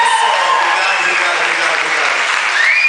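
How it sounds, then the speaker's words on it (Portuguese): An audience claps after a live show, dense steady applause filling the whole stretch, with a voice speaking and crowd murmur mixed in. "palmas, gente"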